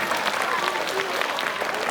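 An Isra Mi'raj commemoration crowd claps continuously and densely, close and fairly loud, with some faint voices mixed in beneath the applause.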